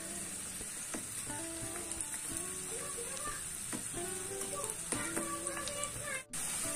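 Onions fry in oil in a pan while hibiscus hair oil is being made, giving a steady crackling sizzle with occasional louder pops and a few faint clinks from the pan throughout.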